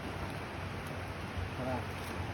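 Sea waves wash against a rocky shore in a steady, close, broadband roar with no clear breaks.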